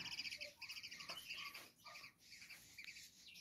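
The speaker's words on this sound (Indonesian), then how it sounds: "kadang bunyi juga kayak nguk nguk nguk gitu bosku" A young, tame, forest-caught coppersmith barbet chick, probably male, gives a quick series of high chirping calls, close and fairly loud, with short pauses between bursts.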